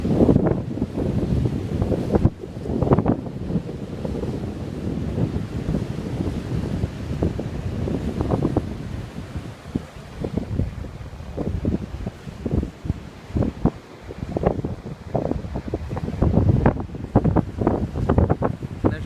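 Strong gusts buffet the microphone in a constant roar at Playa del Cotillo beach, with surf rumbling underneath and no voices.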